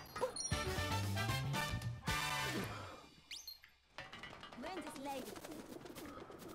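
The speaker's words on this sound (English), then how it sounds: "Birds." Birds coo in Super Mario Odyssey's Metro Kingdom, soft cooing calls faint under talk and game sounds.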